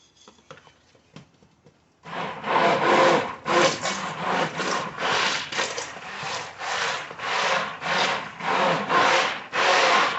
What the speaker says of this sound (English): now that most of it's incorporated, I'm going to go ahead, let's scrape that off the edges